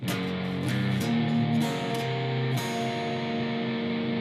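Electric guitar plays a slow Texas blues shuffle pattern, a string of picked chord stabs with a few sharp attacks, then one chord left ringing; no talking.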